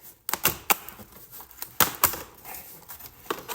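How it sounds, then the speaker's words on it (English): Plastic front bumper part on a Honda CRX race car being ripped off its rivets, a series of sharp snapping cracks and pops, close and irregular, with no talking. "So rip it out of the rivets."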